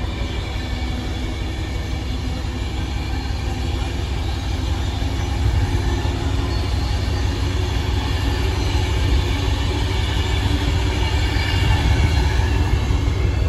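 Locomotive 39125 runs through Stafford station, a loud, steady rumble with rolling wheel noise that swells slightly toward the end.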